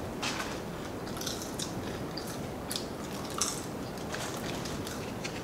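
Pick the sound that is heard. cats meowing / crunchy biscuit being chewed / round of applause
crunchy biscuit being chewed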